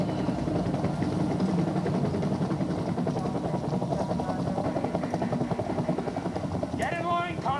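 A video game helicopter in Terminator Salvation: steady rotor thrum and engine drone run throughout, fairly loud, with a short electronic chirping burst near the end.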